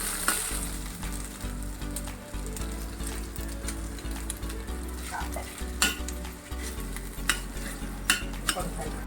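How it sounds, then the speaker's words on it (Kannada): Tamarind gojju is stirred into cooked rice for puliyogare in a pan, with a soft frying sizzle and repeated close scraping and clinking of the spoon at an irregular rhythm, and no talk. "ಇವಾಗ ಗೊಜ್ಜು ಎಷ್ಟು ಬೇಕೋ ಇಷ್ಟು ಅನ್ನಕ್ಕೆ ಹಾಕೊಂಡು ಕಲಿಸ್ಕೊಳ್ಳೋಣ"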